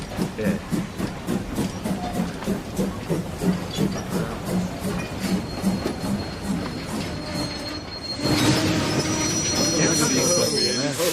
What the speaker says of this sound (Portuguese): Ah, chegou o trem.